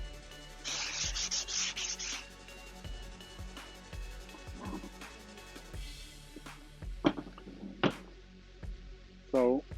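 Brush scrubbing a degreased Chevy Trailblazer suspension part with ball joints and struts: a close, rough bristle rub in short bursts and strokes, with clanks and pauses between.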